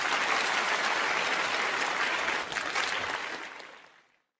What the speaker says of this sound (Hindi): बहुत सारी तालियां चाहिए अमीनुल हक साहब के लिए।